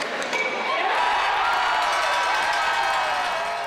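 A loud home crowd roars and cheers steadily at a Pontiacs hockey game in an arena, a dense sustained wall of voices.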